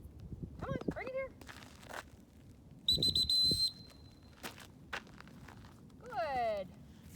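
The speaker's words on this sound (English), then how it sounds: "Giving her a whistle there just to remind her to hustle up" Sharp, high dog training whistle blasts, a short steady tone in the middle, with footsteps and brief voices around them outdoors during retrieve training with a six-month-old Deutsch Langhaar.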